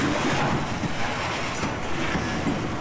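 Conrail freight train rolling along the running track in the Allentown and Phillipsburg area, a steady, loud broadband rumble of wheels and cars with a dense rushing roar, continuous and close, with no talking.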